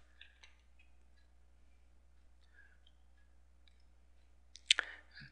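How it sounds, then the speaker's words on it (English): A computer mouse gives a few soft clicks, then one sharper, louder click near the end, in a quiet room. "Click Google search."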